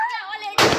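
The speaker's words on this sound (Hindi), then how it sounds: "यहाँ पे हम पटाखे करने आए हुए हैं" A firecracker goes off during Diwali in a hillside town, one sharp loud burst after a brief stretch of a voice, with the crackling blast filling the rest of the moment.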